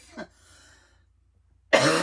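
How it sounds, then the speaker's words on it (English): One short, muffled cough sounds early, then near silence, before a loud close cough bursts in at the end. "Sorry for coughing."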